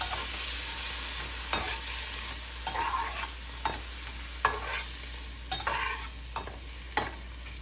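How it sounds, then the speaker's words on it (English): Butter sizzles in a pan while fish-and-grits sauce ingredients are stirred in, a steady frying hiss broken by repeated scraping spoon strokes at close range. "So now my butter is starting to sizzle"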